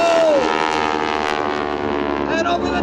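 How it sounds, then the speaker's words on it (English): A stunt biplane's propeller engine drones loud and steady as it loops at an air show with a wingwalker on the top wing, its pitch shifting through the manoeuvre. "we are going to loop the airplane"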